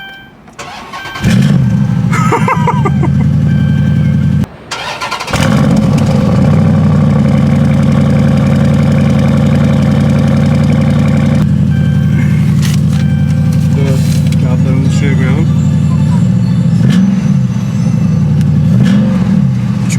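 Dodge SRT8 with a Hemi V8 cranks and fires up loud and close, dies briefly, restarts and settles into a deep rumbling idle with occasional revs, faint voices underneath.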